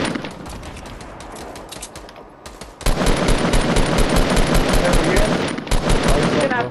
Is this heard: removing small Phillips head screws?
no